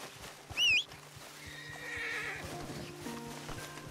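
In the video game Red Dead Online, a horse whinnies once, sharp and close, followed by clip-clopping hooves and a rhythmic jingle over a low background rumble.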